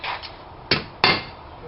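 Hammer blows ring out on hot steel while a hook scroll is forged, two sharp close metallic strikes after a softer opening tap, each with a brief ringing decay.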